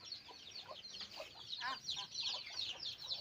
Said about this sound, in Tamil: கோழி கொஞ்சம் மாமியார் தூக்கிட்டு வராங்க பாருங்கள்.